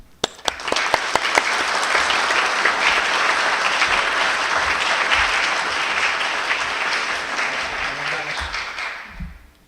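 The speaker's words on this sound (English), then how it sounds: "Kevin, we applaud you for this year's winner of the Ross Awards in Publishing." Audience applause at the Arthur Ross Awards ceremony, a few sharp early claps swelling into full steady clapping that holds for several seconds and then fades out near the end.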